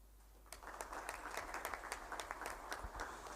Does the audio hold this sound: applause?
yes